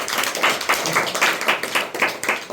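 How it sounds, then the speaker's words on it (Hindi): An audience at a church gathering in Ranchi, Jharkhand claps in praise, producing loud, rhythmic group claps about four per second, close and steady with no talk over them. "एक बार फिर से ताली बजाते हैं हम परमेश्वर की आशीष के लिए"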